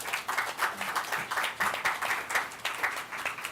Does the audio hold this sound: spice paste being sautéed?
no